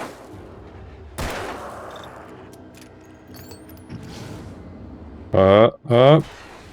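Gunfire in the psychological thriller game Alan Wake: a couple of sharp shots and mechanical clatter amid quiet ambience, followed by a loud voice speaking.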